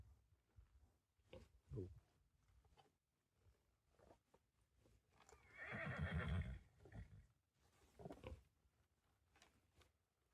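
A horse whinnies loudly once in the middle, surrounded by snorts, shuffling and scattered movement noises close by.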